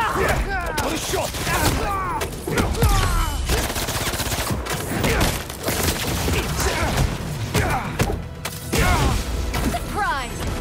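Gunfire and shots ring out in Marvel's Spider-Man 2 during a Black Cat mission in Paris, repeated sharp bursts amid busy game action, with voices speaking over the clamour.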